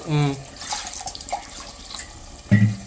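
Water splashes into a cooking pot over added masala for Guntur kichidi, a short pouring and trickling sound between bursts of talking at the start and end.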